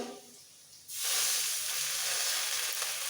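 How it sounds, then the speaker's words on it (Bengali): A little water poured onto red-fried onions in a hot pan bursts into a loud steady sizzle and hiss after a quiet start, continuing close up and alone. "পেঁয়াজ ভাজা হয়ে গেছে এরকম লাল লাল করে ভেজে নিতে হবে এরপর দিয়ে দিচ্ছি সামান্য একটু জল"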